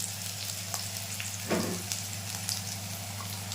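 Cumin seeds dropped into hot oil for a village-style tura fish curry, giving a steady dense crackling sizzle with one brief louder hiss midway, close and continuous.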